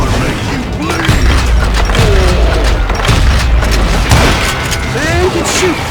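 Gunfire rattles through a Wild West shootout in the game Call of Juarez: Gunslinger, loud booming shots and crashes arriving in dense bursts beneath shouted voices.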